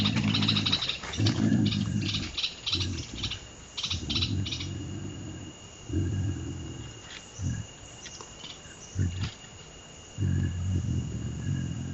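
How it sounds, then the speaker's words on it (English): A bird in a Costa Rican jungle repeatedly gives harsh, rapid scolding calls at pumas, in bursts over a steady insect-like drone, loud and close. "Listen to that bird scolding these pumas."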